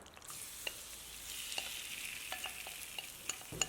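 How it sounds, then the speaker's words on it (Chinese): Potato batter is poured into a hot, oiled pan and sizzles, a soft steady hiss with scattered small pops and ticks, fairly quiet and without talk. "刷上一层食用油， 再倒入搅拌好的土豆面糊"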